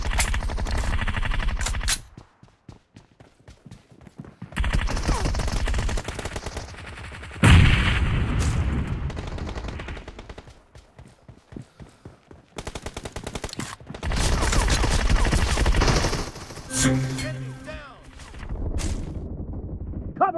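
Gunfire in the mobile battle royale game BGMI: loud bursts of rapid automatic shots in several bouts, separated by quieter gaps with scattered single cracks and game effects.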